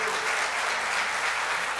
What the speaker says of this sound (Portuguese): Vamos aplaudir por os que fizeram bem